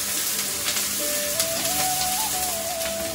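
Fish frying in a pan until golden brown, a loud, close, continuous sizzle with crackling spatter throughout and no talking.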